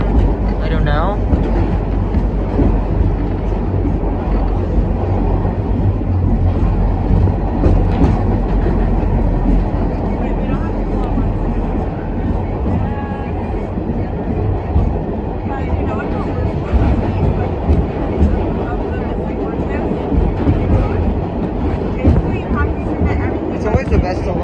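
An R46 A train on the NYC subway runs fast between Manhattan and Brooklyn, with a continuous loud rumbling roar and rattling wheels heard from inside the car and a voice occasionally underneath.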